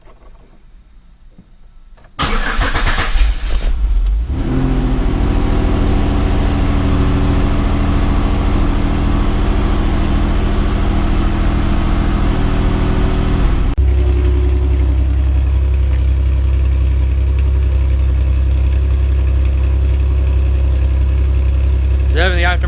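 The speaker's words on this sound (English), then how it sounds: "I wanted to do a cold start before I pulled it out" A 2002 Pontiac Grand Am GT with an aftermarket muffler cold-starts: a brief crank catches into a loud, high idle that holds for several seconds, then settles to a lower, quieter steady idle.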